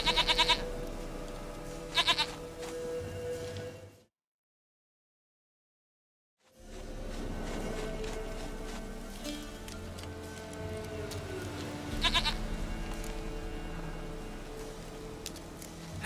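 A goat in The Witcher 3: Wild Hunt gives a few nasal, wavering bleats: two short calls early, then another after a pause, over quiet game ambience.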